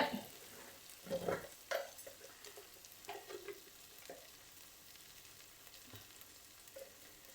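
Chicken curry masala fries in a pan while it is stirred, giving quiet sizzling with a few scraping bursts near the start. The sound then settles to a faint, steady crackle, with no talking over it.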